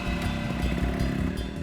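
A motorcycle engine puttering at close range with a choppy, uneven rhythm, loud and steady for a brief moment as the bike pulls away.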